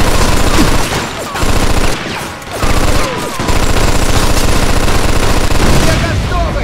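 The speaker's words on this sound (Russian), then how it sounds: "Хватит уже палить! Я и так оглох наполовину!" Sustained automatic gunfire in the Mafia II video game, loud rapid bursts that stop briefly and resume, dense and close throughout.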